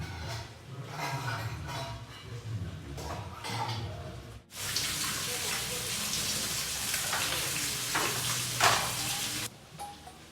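Dishes being washed under a running kitchen tap at home in the morning, a steady close rush of water that starts abruptly partway through, following a quieter stretch of lighter handling sounds.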